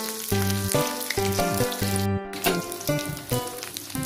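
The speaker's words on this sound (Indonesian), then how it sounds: "Saat menggoreng ayam, di sini kita tidak menambahkan bumbu lagi ya." Chicken pieces fry in a pan with a continuous close sizzle that runs under louder melodic background music.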